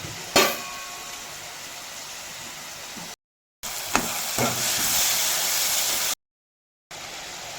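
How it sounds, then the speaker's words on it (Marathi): Cumin and whole spices fry in a pan with a loud, steady hiss. Occasional stirring knocks break through, and the sound cuts out briefly twice. "हे बघा सगळं फ्राय झालं आहे"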